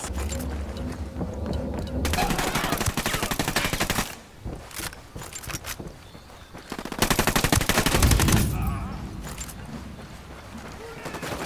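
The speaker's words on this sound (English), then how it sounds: "Opening fire on these fuckers." Rapid bursts of automatic gunfire in a first-person shooter game, loud dense volleys with short pauses between, accompanied by voices over the shooting.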